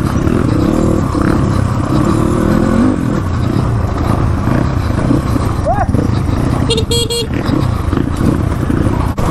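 A group of eight Crossfire motorcycles rides together on a rough road, engines revving and droning loudly with a horn honk near the end, while people talk over the noise.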